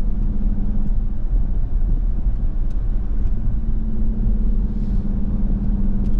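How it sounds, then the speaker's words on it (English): Steady, deep exhaust rumble from the Hemi V8 of a 2023 Dodge Durango R/T on the move, a continuous loud low drone with no talking over it. "Love the sound of that Hemi V8 rumbling out the back."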